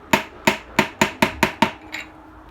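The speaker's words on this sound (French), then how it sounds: "Je vais prendre le marteau." A metal hammer strikes a wheel axle bearing seven times in a steady, fairly quick rhythm, each blow a sharp close ringing knock, followed by one fainter tap; no one speaks.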